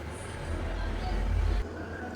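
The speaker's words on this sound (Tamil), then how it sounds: "இப்போ மிக்சியில் அரைச்சிட்டு பார்க்கலாம்" A kitchen mixer grinder grinds soaked Mappillai Samba rice into dosa batter, making a steady, loud motor whir with a deep hum underneath. The sound shifts abruptly near the end and no one speaks.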